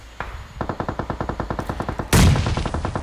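Automatic weapon fire in a video game rattles in a steady rapid burst of evenly spaced shots, then a loud sudden blast bursts in near the end, like an exploding grenade.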